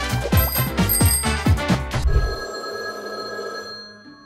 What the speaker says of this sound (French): ensuite le téléphone va encore sonner